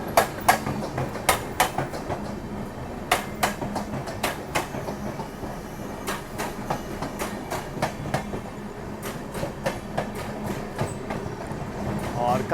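Sairang Rajdhani Express running near Kanpur as it passes the Prayagraj Express, heard from inside the train: a steady rumble with repeated clickety-clack wheel beats over rail joints, with faint voices at times.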